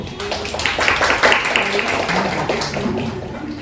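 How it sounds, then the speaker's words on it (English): Audience applause at a book launch in a gallery, a dense burst of clapping from a room of people that swells and then gradually thins out. "Can we have a round of applause to that?"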